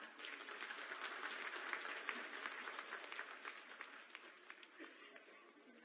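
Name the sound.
audience applause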